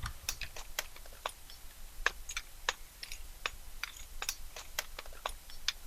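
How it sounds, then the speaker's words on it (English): Light metallic clicks and jingles from keys shaken in a drawer, an irregular stream of small taps over a low background hum. "I rattled some keys in the drawer"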